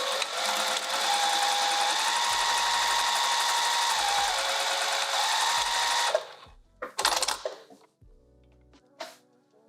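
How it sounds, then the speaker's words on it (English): A sewing machine runs steadily while back stitching a lined-bodice dress, its fast whirring hum loud and continuous for about six seconds before stopping, followed by a few light clicks and handling taps. "let's back stitch"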